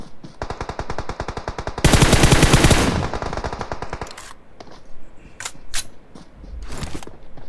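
Rapid, sustained automatic M4 rifle fire in a video game, a dense burst that swells louder midway, then fades into scattered single shots and clicks.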